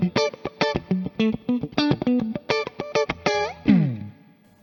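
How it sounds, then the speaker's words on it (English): A clean electric guitar tone through a Boss Katana amp with reverb, a run of plucked single notes and chords in an uneven rhythm, each ringing briefly before a final chord that fades into a reverb tail. "I might leave a little bit of reverb always on the clean"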